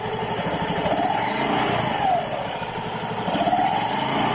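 A Honda Vario 110 scooter with an aftermarket Kartel double clutch bell idles steadily and close by, a rough mechanical rattle riding over the low putter, with a couple of brief revs partway through.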